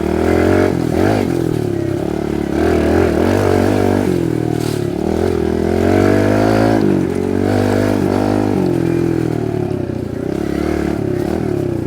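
A Kawasaki KLX 110R dirt bike runs steadily and close by for the whole stretch, its small engine droning with shifting pitch as it revs and eases off, with light clatter mixed in.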